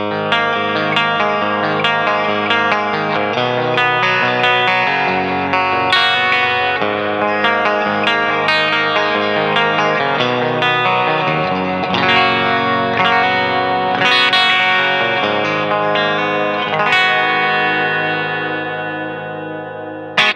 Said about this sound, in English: This is the outer coil of the bridge pickup.